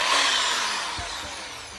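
A power drill whirs steadily, its motor pitch sliding slightly downward as it winds wire into a twisted vape coil, close and fairly loud.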